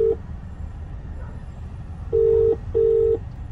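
Phone keypad dialing tones: a short beep at the start, then two longer steady tones near the end, loud and clear over a low background rumble.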